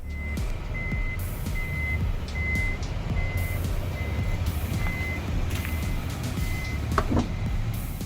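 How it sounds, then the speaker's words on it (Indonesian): The power tailgate of a 2020 Toyota Fortuner VRZ opens and closes by button, with a steady series of clear warning beeps over a continuous low mechanical hum, followed by a brief thud near the end. "seperti inilah penampakan ketika kita membuka bagasi dengan tombol power door dalam kondisi on dan menutupnya lagi dengan menekan tombol tersebut"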